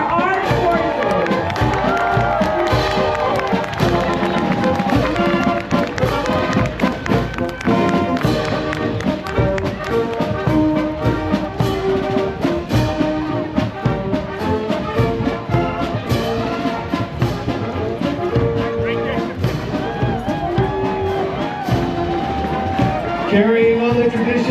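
A parade crowd applauds and cheers for armed forces ceremonial honor guards at the Cherry Blossom Parade in Washington DC. The clapping and shouting are dense and continuous, with an announcer speaking over a loud, busy street scene.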